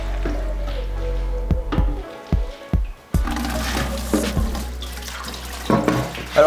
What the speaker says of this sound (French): on va vider toute l'essence qu'il y a à l'intérieur